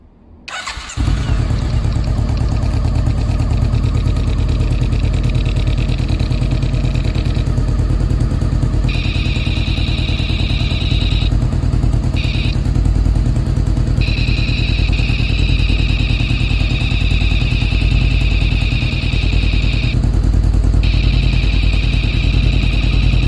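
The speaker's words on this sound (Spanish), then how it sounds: "se va a poner en funcionamiento la motocicleta" A motorcycle with a fuel-injection system starts up and then runs steadily at close range, its loud engine drone continuing alone with a tone that shifts slightly at times, no voices over it.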